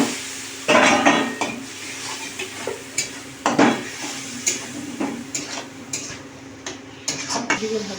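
Ground spices (chilli, turmeric, cumin and coriander powder) with a little water scraped and stirred in a pan, giving a soft sizzle under repeated spatula scrapes and clinks of metal against the pan, close and moderately loud.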